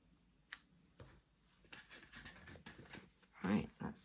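Paper being cut with scissors or a trimmer for Stampin' Up festive tags: a few faint, brief snips and scratchy crafting sounds close by, mixed with quiet speech.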